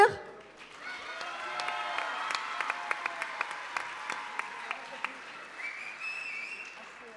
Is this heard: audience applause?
yes